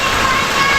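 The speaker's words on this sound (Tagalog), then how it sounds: "at ang lakas ng ulan dito sa Bukana" Heavy rain pouring at Bukana, a dense, loud, continuous hiss of drops close by with no break.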